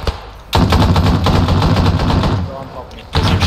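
Automatic gunfire rattles in Arma 3 during a co-op mounted patrol, a loud dense burst of rapid shots lasting about two seconds after a brief lull, then another burst starting, with voices talking over it.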